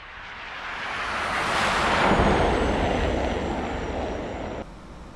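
A Saab Sk 60 jet engine throttles up in a flight simulator game, a loud, broad roar that swells steadily and then eases slightly before cutting off abruptly near the end.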